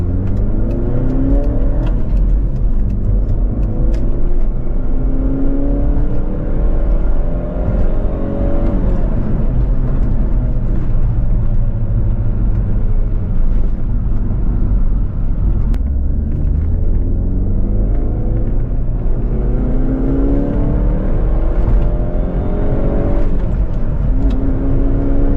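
An Alfa Romeo 156 SW Twin Spark engine revving hard at high rpm, rising repeatedly through gear changes in a loud, continuous rumble from inside the car on the road.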